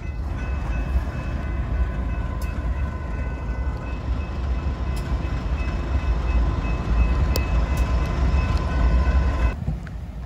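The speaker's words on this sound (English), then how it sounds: "That train's about to stop." A Ferromex freight train rolls past a railroad crossing in Rosenberg, Texas with a loud, continuous rumble and rattle of cars, a crossing bell pinging at intervals, and the noise dropping off abruptly near the end.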